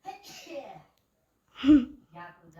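A single sharp sneeze bursts out between stretches of a woman's speech, loud and close, with a short burst of talk following.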